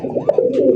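Red rasgolla pigeons give a short, close, rounded coo, a brief throaty warble with no one talking.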